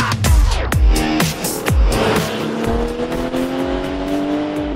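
A 2015 Porsche 911 (991) Carrera 4 GTS on the road, loud and close, its engine rising through rapid revs and gear changes before settling into a steady pull.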